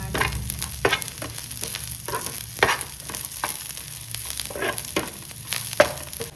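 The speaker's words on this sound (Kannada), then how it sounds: "ಬೆಳ್ಳುಳ್ಳಿ ಹೀಗೆ ಹಾಕಿ ಪುನಃ ಫ್ರೈ ಮಾಡಿ." Garlic sizzling with fried onions and curry leaves in a pan for a Mangalore chicken curry, steady crackling fry broken by periodic scraping stirs of a spoon, close and unaccompanied by talk.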